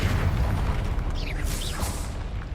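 A Confringo spell explosion in Hogwarts Legacy lands as a deep booming burst that rumbles and decays over a couple of seconds, with brief higher magical swishes layered on top, close and loud.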